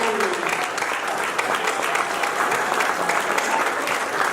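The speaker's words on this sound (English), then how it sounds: "So a big round of applause for the Sharon family." A gala audience at a life shelter fundraiser breaks into steady, sustained applause, a dense wash of many hands clapping throughout.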